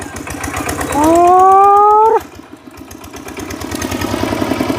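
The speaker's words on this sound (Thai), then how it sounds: "ใช้รถไถมาบัดเดียวเลย" A plowing tractor's engine idles steadily close by at a home-building site, with low rhythmic chugging throughout and a brief rising tonal whine partway through.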